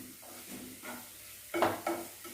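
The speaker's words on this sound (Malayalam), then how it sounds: "നമുക്ക് കൂൺ 400 ഗ്രാം ഉണ്ടല്ലോ. ഇത് എണ്ണയിൽ കടന്നിട്ട് ഒന്ന് മൂക്കട്ടെ" Mushrooms, about 400 grams, frying in oil in a pan, a low sizzle with a couple of clattering stirs near the end.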